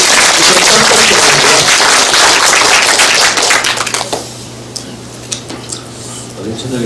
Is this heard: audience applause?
yes